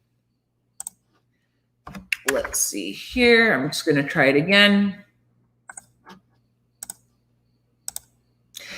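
Scattered keyboard clicks and taps sound sparsely, a few at a time, around a stretch of close speech.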